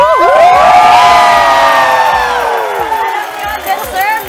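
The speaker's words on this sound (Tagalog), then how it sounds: "Ang palakpakan dapat may kasamang hiyaw!" Studio audience at a Philippine morning TV show cheers loudly, with shouts, whoops and high children's voices over a steady crowd roar that fades slightly toward the end after a choral competition win.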